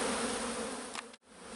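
Honeybees swarm noisily around an open hive while frames of nurse bees are lifted out to prevent swarming, making a dense, steady close-up buzz that briefly cuts out near the end before resuming.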